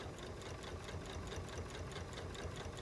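A sewing machine runs steadily while stitching quilt binding, a continuous close mechanical whir with no pauses across the short stretch.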